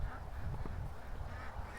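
Ducks being let out at night honk and quack in a close, busy cluster, several birds calling over one another in short bursts across the couple of seconds.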